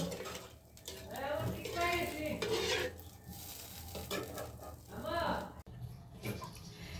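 Sour curry with small puti fish cooking in a pan, with a steady sizzle and a spoon scraping and clinking against the pan as it is stirred, while a voice talks over the cooking.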